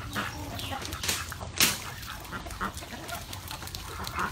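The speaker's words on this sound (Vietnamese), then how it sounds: "Còn này là gà để chuyên để đá nè" Fighting roosters and ducks, including Muscovy and local breeds, on a farm in the flooded Mekong Delta, giving scattered clucks and calls at moderate distance over rural background noise, with no talking.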